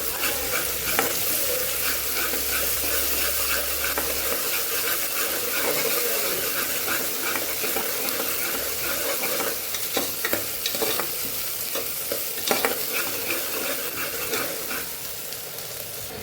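Onion with ginger, chilli and garlic paste sautéing in a pan for Kathiyawadi masala khichdi, a steady sizzle broken up by repeated stirring scrapes, close and fairly loud throughout.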